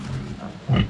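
A pig gives a short, close, loud grunt near the end of a brief stretch of low snuffling on a rural farm where a sow has just given birth.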